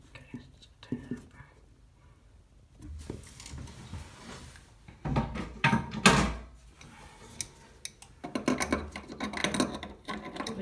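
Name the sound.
tightening toilet siphon nut with an adjustable spanner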